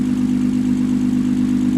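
A steady, rumbling single-turbo BMW 335i engine idles continuously with a deep, even hum, close by and unchanging throughout.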